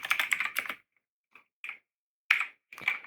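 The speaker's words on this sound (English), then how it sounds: "then just type your prompt right here" A computer keyboard clacks under quick fingers as a prompt is typed, in close, crisp bursts of keystrokes separated by short silent gaps.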